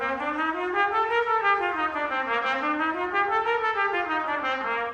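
Soft trumpet feather tonguing, notes so lightly separated they nearly blend into a slur, with a gently wavering line rising and falling, quiet and close with no talking.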